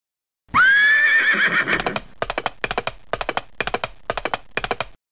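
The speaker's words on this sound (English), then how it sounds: "Where is the horse?" A horse in a farm animal learning game gives one loud, close whinny that falls away, followed by a rhythmic series of clip-clop hoof taps in short bursts.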